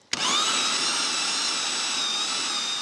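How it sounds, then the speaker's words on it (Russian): A powerful electric meat grinder fitted with a fine-holed plate grinds nuts for sauce, starting abruptly into a loud, steady high-pitched whine that holds without a break. "Это я закручу сейчас мясорубку. И сейчас она будет шуметь. Ну, всякая мощная мясорубка шумит."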